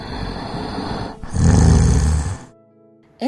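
A loud, rasping snore swells for about a second in a children's farmyard story, then falls away to quiet, with a brief sound at the very end.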